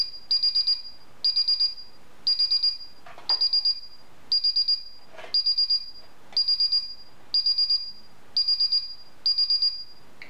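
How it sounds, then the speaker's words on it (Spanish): Paradox wired intrusion alarm set off by opening its sensor, sounding as a loud, steady electronic beeping in repeated bursts of four quick high pulses, about one burst per second, with no other sound. "Yo abro el sensor y alarma, como habíamos configurado."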